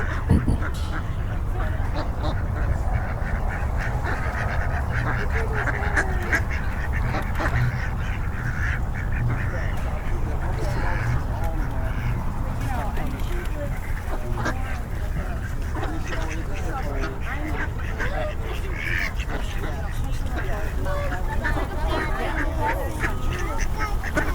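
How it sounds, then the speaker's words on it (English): A flock of ducks and geese on a summer preserve quack and honk continuously around the listener, a busy, mid-distance chorus of calls with people talking over it. "All the birds are probably going to take off here."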